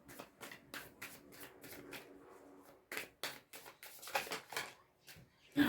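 Tarot cards shuffled by hand for a reading, heard as short papery riffling bursts in an uneven rhythm, with a brief pause midway before a second run of quick shuffles, close and fairly quiet.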